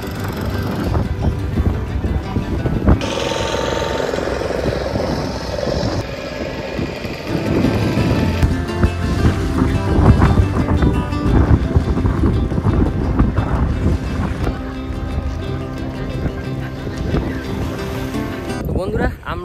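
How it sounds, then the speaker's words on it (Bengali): Private motor boats roar on Chilika Lake in Odisha, a loud, steady engine drone with wind noise, while people talk over it. "দেখো কী আওয়াজ হচ্ছে দেখো, এগুলো সব হচ্ছে প্রাইভেট বোট"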